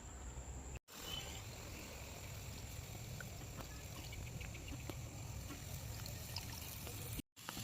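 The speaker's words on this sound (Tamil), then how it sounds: "புளி தண்ணி ஊற்றியாச்சு" A steady, hissing trickle of tamarind water pours into a pan without pause for several seconds, close by, briefly cut off near the start and end, while making fish fry gravy.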